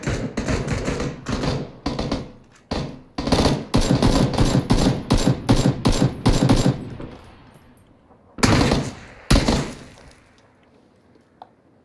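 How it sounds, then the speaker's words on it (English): Bursts of automatic gunfire in PlayerUnknown's Battlegrounds, with rapid loud volleys for several seconds, a pause, then two more sharp bursts near the end and no talk. "we're getting shot at the other spot"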